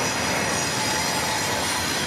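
A CPKC freight train rolls out slowly along the rails, a loud, steady rumble with wheel squeal and metallic ringing filling the whole moment, heard up close with no talk.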